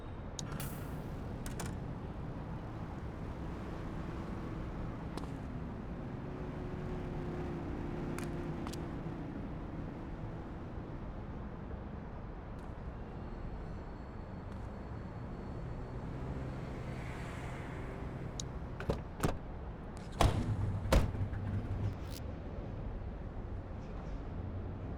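A car is driven slowly in the police video game The Precinct, with a quiet, steady low engine hum and a few sharp clicks and thumps near the end.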